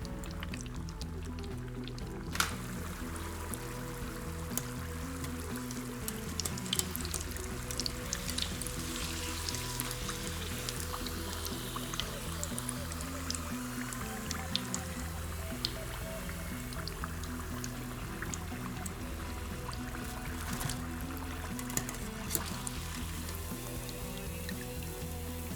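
Bitterballen deep frying in hot oil give a steady, dense crackle and bubbling sizzle with scattered pops, continuous and close throughout, with no talking.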